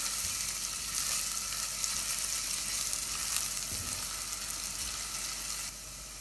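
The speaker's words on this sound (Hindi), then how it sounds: "अब ये जो हमारे पास अनियन है इसको ऐड करेंगे। हल्का सा फ्राई करेंगे।" Onions frying lightly in a pan, with a continuous bright sizzle and crackle close up, steady and even, dropping slightly in level near the end.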